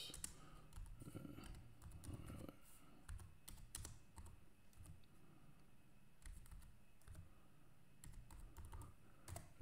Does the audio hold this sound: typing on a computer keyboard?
yes